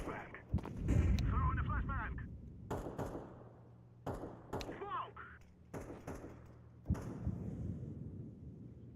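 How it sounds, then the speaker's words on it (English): A flashbang grenade goes off in a video game as a series of sharp, punchy blasts and thuds spaced a second or two apart, fairly close, with shooting-game effects around them and no talk. "I'm throwing a flashbang."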